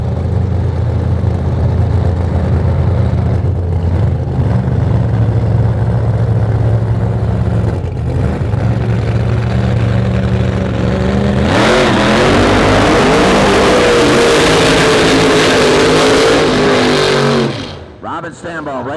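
Loud drag strip racing at a nitro event with Top Fuel dragsters, jet cars and Pro Mods: a heavy engine roar holds under an announcer's voice, then a harsh, rising blast of a car launching takes over before cutting off near the end.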